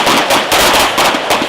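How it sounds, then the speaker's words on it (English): Rapid 9mm pistol fire during a nighttime military police training exercise, a loud continuous volley of overlapping cracks with no pause between shots. "instructors introduce a new challenge, firing it in complete darkness"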